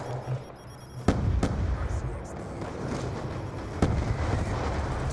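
A grenade explodes in Black Ops 2 on the Nuketown map with a loud, sharp blast, followed a few seconds later by a second sharp burst over ongoing game noise.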